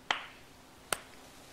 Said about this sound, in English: Dramatic clapping in the background. Clap for you. Slow clap.